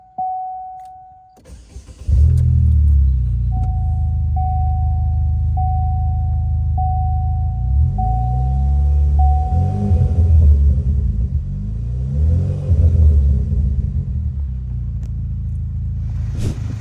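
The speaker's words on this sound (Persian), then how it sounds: "بریم یه استارت بزنیم ببینیم صدای موتور چطوری شده." A Pontiac GXP with race seats cranks and catches, then settles into a loud, steady idle with a deep rumble, broken by several short revs that swell and fall back, with no talking over it.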